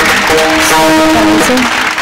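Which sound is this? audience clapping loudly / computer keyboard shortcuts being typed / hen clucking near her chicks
audience clapping loudly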